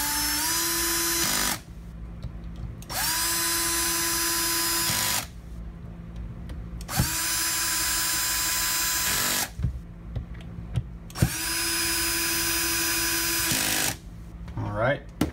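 A power screwdriver whirs in several separate bursts as it drives screws, each run a steady whine broken by short quiet pauses, close and clear, with faint handling noise between.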